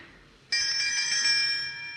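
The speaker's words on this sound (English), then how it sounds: "Now, this must be the doorbell." A doorbell in a 1940s radio drama rings once, a bright sustained metallic chime that starts abruptly and hangs for well over a second before slowly fading, with no voices over it.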